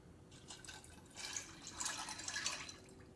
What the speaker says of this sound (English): And you add 1 cup of water.